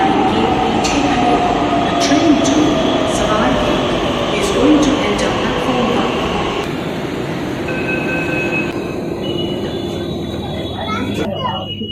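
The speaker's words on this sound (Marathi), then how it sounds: "आता हे आमचे मेट्रो आलेले आहे ह्याच्यामध्ये जायचं आहे" A metro train rumbles steadily into a station in Sambhajinagar, with mechanical clatter and a high brake squeal near the end, while people talk nearby.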